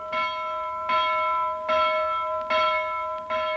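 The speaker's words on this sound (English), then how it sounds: "announces today with his loud get out of bed bell" A loud bell rung to wake a seaside town, struck in a slow, steady rhythm of about five ringing strokes, each leaving a sustained metallic tone.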